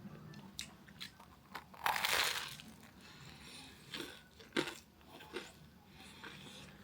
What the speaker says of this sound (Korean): 진짜 바삭하고 맛있다.